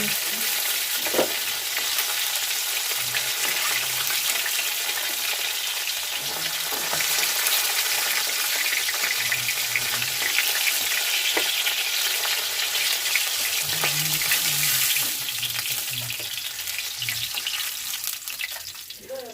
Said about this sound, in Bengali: মাছ এরকম করে ভেজে নিতে হবে কড়াইতে গরম তেল আছে